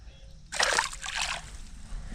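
A bass released by hand splashes back into the water, a single short burst of splashing and sloshing up close that settles into a faint trickle, with no talk over it.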